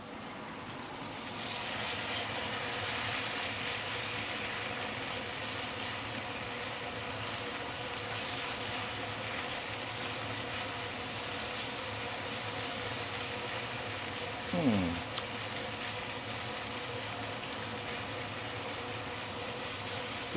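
Tofu, fermented soya bean and marinated minced pork frying in a pan for a Chinese tofu stew, a steady loud sizzle that holds throughout with a faint clink partway through.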